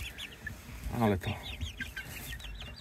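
Chickens in a cramped backyard coop cluck repeatedly in short rising calls, moderately near, while someone talks briefly over them.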